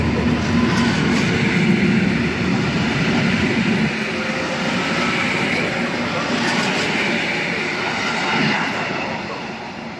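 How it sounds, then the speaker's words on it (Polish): An EN57 electric multiple unit local train pulls into Warszawa Zachodnia station with a loud, sustained rumble and rolling wheel noise that stays close and powerful before easing slightly toward the end. "Local train from Warsaw Chopin Airport to Modlin arrives on track 2."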